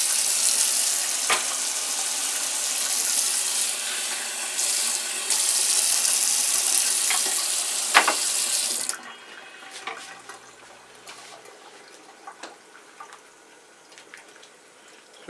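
Tap water runs into a pot of yellow split pea vegetable soup, a steady rushing hiss for about nine seconds, then cuts off, leaving faint simmering and light clinks in a quiet kitchen.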